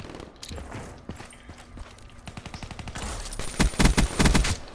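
Video game gunfire in a 2v2 match: scattered single shots, then a loud, rapid automatic burst building toward the end, with footsteps and game noise underneath.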